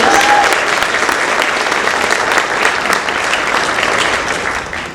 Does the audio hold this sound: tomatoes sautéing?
no